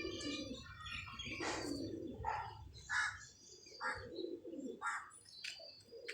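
A female pigeon coos softly nearby in a loft, giving a series of faint, rounded calls at roughly one-second intervals, with light chirps from other birds in the background.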